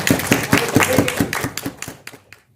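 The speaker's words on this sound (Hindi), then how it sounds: "ताली हो जाए।" Audience applause at a Hindi book release and poetry event, a burst of many hands clapping that rings out for about two seconds and then thins to a few scattered claps before stopping.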